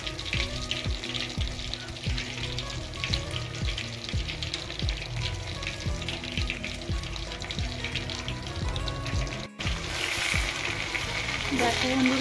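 Chitol fish frying in hot oil, spiced coating crisping, a steady close sizzle and crackle running throughout with faint metallic kitchen clatter and a brief break near the end.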